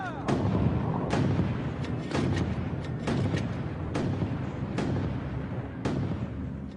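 Heavy mortar fire from a platoon in the Korean War booms repeatedly, one sharp blast every second or so, loud and close over a dense rumbling backdrop.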